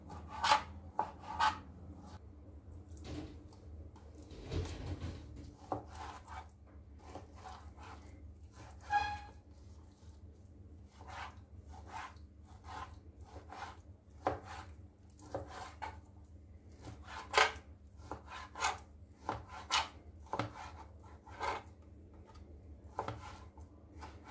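Chicken is cut into pieces with a knife on a cutting board for fajita pizza, producing a series of sharp, irregular chops and knocks close by, some in quick clusters, over quiet background with no talking.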